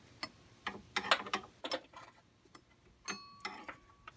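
A 5/8 wrench tightens the fitting nut on a power steering hose, making a series of irregular metallic clicks and ratcheting taps up close, with short bursts and pauses and one brief ringing clink.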